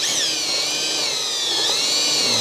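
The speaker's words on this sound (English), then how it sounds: "So I'm going to take my drill and I'm just going to go." A power drill bores through a wooden plank while a staghorn fern is being mounted, giving a steady high-pitched whine with the motor held under load for the whole stretch, close and loud with no talking.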